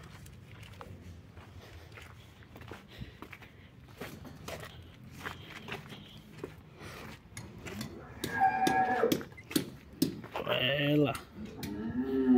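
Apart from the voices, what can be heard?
cattle mooing in a slaughterhouse corral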